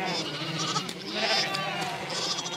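Cheviot sheep bleat in a steady, overlapping chorus on a mountain commonage, several ewes and lambs calling close by with a wavering, nasal tone.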